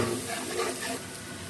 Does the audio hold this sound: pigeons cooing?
no